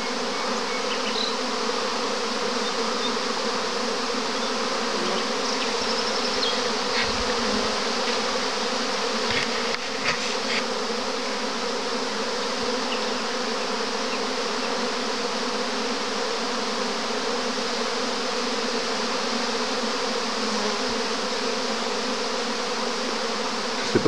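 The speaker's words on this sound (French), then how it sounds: "Il y a de l'abeille partout." Honeybees from an April swarm buzz steadily all around, a dense continuous hum that stays loud and even throughout, with no voices.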